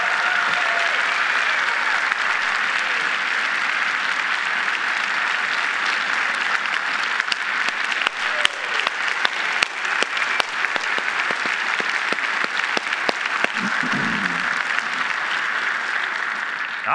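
A church congregation applauding to congratulate Dr. Mike Powers, loud sustained clapping from a large crowd lasting throughout, with a faint voice near the end.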